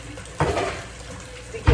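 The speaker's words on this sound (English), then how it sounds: "just put some hot water in here" Hot water poured into a boiler for oatmeal, two short splashing gushes, the second louder, over a steady watery hiss with no speech.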